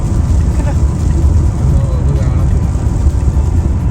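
A vehicle moves through a dust storm in Saudi Arabia on the road between Riyadh and Abha, heard as a loud, steady roar of wind and engine noise that fills the whole stretch without a break.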